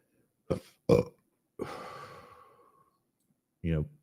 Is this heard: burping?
yes